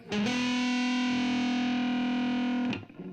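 A single sustained note from an electric guitar through a KOKO KH8 high-gain distortion pedal, thick and buzzy, held steadily for a few seconds before cutting off.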